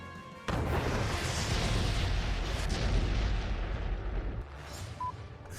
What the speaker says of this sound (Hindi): देखिए कैसे सेकंड्स में ब्रह्मोस मिसाइल ने दुश्मन के जहाज को तबाह कर दिया।